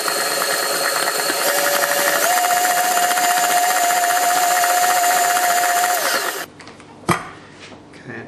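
An electric mixer beating a powdered sugar cookie mixture, a loud, steady motor whine that runs continuously for about six seconds and then stops, followed by a few faint knocks.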